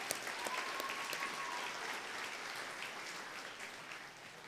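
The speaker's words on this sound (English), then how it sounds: "Another round of applause for Mr. Sanders, please." A luncheon crowd at a Boys and Girls Club event applauds an honoree, a broad wash of steady clapping heard from a distance, moderately faint and continuous, with no voices over it.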